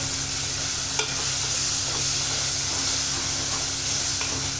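Ginger-garlic paste being stirred in a pan for brinjal curry, a steady sizzle running throughout with a few soft utensil scrapes, close and even.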